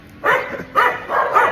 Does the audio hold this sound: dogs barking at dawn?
yes